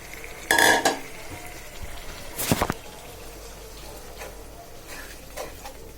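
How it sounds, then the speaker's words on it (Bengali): Spiced fish roe dropped into a hot pan of fried onion, garlic and green chili, giving a loud sizzle burst, then clinks of a spatula stirring and softer frying crackle beneath. "এবার মশলা মেখে রাখা মাছের ডিমগুলো দিয়ে দিচ্ছি"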